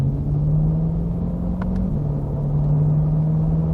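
Deep, steady exhaust drone from a 2020 Chevrolet Corvette Stingray mid-engine car under way, with a brief dip in pitch midway as a paddle gear shift comes through. It is loud and continuous with no voices.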